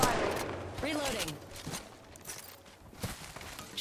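Gunfire in the battle royale game Apex Legends, rapid shots crackling in close bursts under steady game ambience and some voice.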